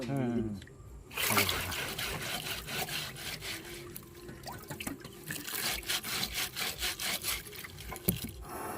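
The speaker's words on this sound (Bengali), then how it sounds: "শুনুন এই আলুটা কাটবো কি করে কাটবো আমি দেখাচ্ছি" A potato is cut by hand with a run of rhythmic, close scraping and slicing strokes, some sharper than others, while a person talks over the work.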